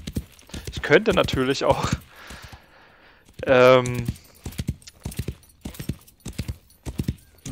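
Horse hooves galloping in the Wild West Online video game, a rapid, steady clip-clop running the whole time beneath a voice speaking German, with a brief whinny-like burst in between.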